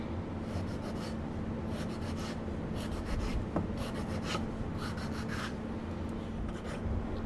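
Kitchen knife dicing a fresh tomato on a cutting board, a quick series of soft chopping taps and scraping rubs repeating steadily at close range over a constant low hum, with no talking.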